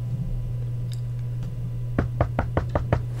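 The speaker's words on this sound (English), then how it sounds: "Who's knocking at my door?" Knocking on a door in The Wolf Among Us video game: a quick series of about six firm raps over a steady low hum, with a few faint taps just before.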